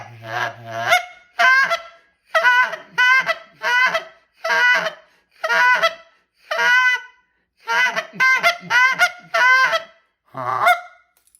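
A mouth-blown goose call works out a string of soft murmurs and moaning honks, about a dozen short clear bursts in loose rhythm, loud and close with nothing else behind them.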